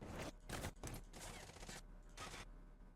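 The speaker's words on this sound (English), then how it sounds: "Watch him shoot the bin." Gunfire in Call of Duty Warzone as a player shoots at a bin: several quick bursts of rapid shots separated by brief gaps, somewhat distant and not very loud.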